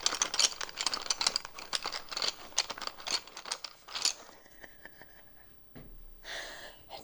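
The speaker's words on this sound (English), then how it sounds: "sometimes in class, I would open up my pencil bag and just go," A pencil bag is opened and rattled in a quiet room, with rapid, close clicking and scratching rattles for about four seconds, then softer rustles and a brief zipper-like sweep.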